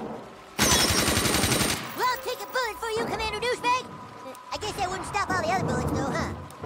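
A turret machine gun fires in the South Park: The Stick of Truth video game, a dense rapid burst at the start followed by further gunfire as voices talk over it.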